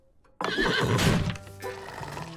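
A horse, wanted for a race, lets out a loud, close neigh that bursts in suddenly and trails into a wavering whinny, with a faint clip-clop of hooves beneath.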